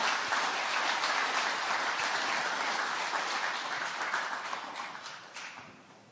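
A large audience at a Parents' Day ceremony applauds to welcome the Korea Senior Citizens Association chairman to the stage, a steady, dense wash of clapping that slowly fades toward the end.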